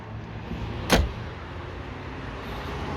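A single solid thump of a car door shutting cuts through a quiet, steady background hum, then the low ambience continues.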